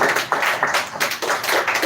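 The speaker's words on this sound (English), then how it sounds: "So once again, clap for Miss Soumya" Audience applause at the grand finale of a speech competition, a dense, steady patter of many hands clapping throughout, fairly loud and continuous with no talk over it.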